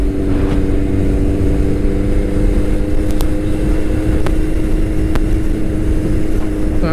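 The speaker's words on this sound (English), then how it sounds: "but the bike is very loud" A Suzuki Hayabusa turbo motorcycle cruising at steady speed, its engine a loud, continuous close drone with wind rumble and no change in pitch.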